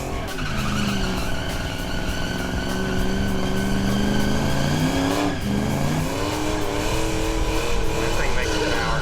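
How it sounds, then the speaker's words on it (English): Fox body drag car doing a burnout at a drag strip, a loud continuous engine roar with rising and falling revs and tire screech throughout, with an announcer talking over it. "let's see this burnout. The burnouts never lie on Pastime."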